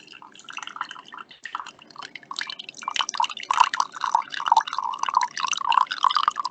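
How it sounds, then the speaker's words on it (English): Liquid is poured into a mug, giving a steady trickling, dripping stream that grows slightly louder over several seconds, with no talking. "Maybe you can kind of get the sound of me pouring this into this mug."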